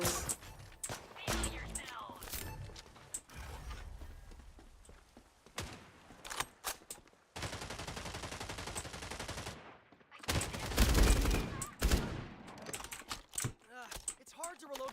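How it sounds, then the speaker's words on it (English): Light machine gun firing in a video game, heard as rapid bursts of gunfire mixed with other game sounds and clicking, with sustained stretches of fire and pauses, under occasional talk. "Light machine gun, actually."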